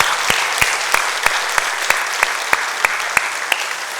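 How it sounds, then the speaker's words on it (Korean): A church congregation applauds together at a Sunday service, a dense and steady wash of clapping with rhythmic unison claps standing out at a regular beat throughout. "이 시간 우리 박수로 영광"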